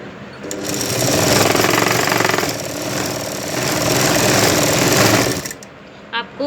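A sewing machine stitching lehenga fabric runs in two fast, steady rattling bursts with a short slowdown between them, then stops; a voice speaks briefly at the end.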